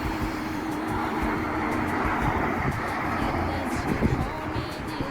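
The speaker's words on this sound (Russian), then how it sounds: "Вот Шумахер помчался" A car engine roars and the vehicle speeds off, a steady broadband rumble of motor and road noise throughout, fairly close.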